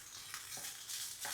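Something roasting in ghee while being stirred in a pan, a hissing sizzle with soft scraping strokes of the spoon, close and moderately quiet, no talking.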